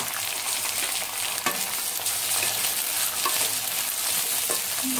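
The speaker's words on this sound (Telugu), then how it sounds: "కొంచెం గోల్డెన్ బ్రౌన్ అయ్యే వరకు వేయించుకోవాలి" Onions frying in a pan for a spicy chicken dish, a steady, dense sizzle that crackles continuously with a few light stirring taps, close and alone without voices.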